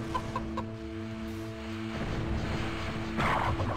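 A chicken clucking in the video game Brutal Heretic, several short clucks over a looping mechanical game tone, with a louder burst of squawking near the end.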